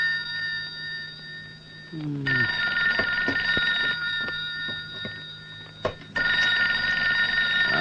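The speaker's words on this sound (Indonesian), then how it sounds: "Malam-malam telepon." A telephone rings at night, loud and close, in bursts of bright electronic trilling with a pause between them, over a steady low hum.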